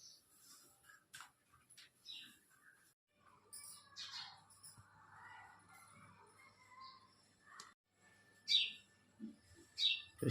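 Several birds call and chirp in the morning near a home kitchen, with scattered short tweets and squawks at varying distances, some sharp close calls toward the end over a quiet background hum.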